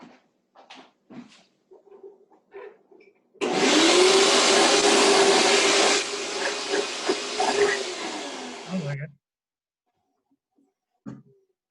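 Vacuum cleaner switched on at a repair clinic, a loud, close rushing roar that starts abruptly, runs about six seconds with slight changes in pitch, then cuts off and winds down, with a few soft knocks and handling sounds before and after.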